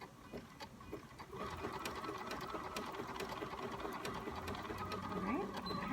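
Sewing machine back stitching through double gauze fabric for an infinity scarf, starting quietly then running steadily and fairly close from about a second in, a continuous mechanical whir throughout.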